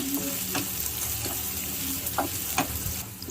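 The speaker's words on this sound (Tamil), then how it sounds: "ஒரு 3 வெங்காயம் இது நல்லா நம்ம இப்போ வதக்கி வச்சுக்கலாம்" Small onions sautéing in a pan over a medium flame, an even, fairly quiet sizzle with intermittent spoon scrapes spaced through it.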